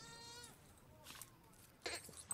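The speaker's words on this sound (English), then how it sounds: "Yo, it's that goat." A goat in a TV fantasy series bleats in a wavering, quavering cry at the start, followed by brief rustling and faint background sounds.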